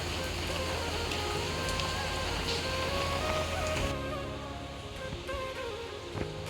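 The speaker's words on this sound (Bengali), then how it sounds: "এই নিয়ে দ্বিতীয় দিন হচ্ছে বৃষ্টি এই বছরে" A heavy afternoon downpour around four o'clock makes a soft, continuous hiss of rain on surfaces, steady at first, then slightly thinner and quieter partway through, with a few faint background sounds.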